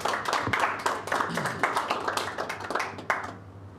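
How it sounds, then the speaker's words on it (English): Audience at a port submission hearing clapping steadily, a fairly close, moderately loud patter of many hands with individual claps audible, continuing for several seconds and tapering off at the end. "Seems everyone's getting a clap these days"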